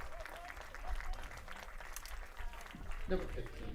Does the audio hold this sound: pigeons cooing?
no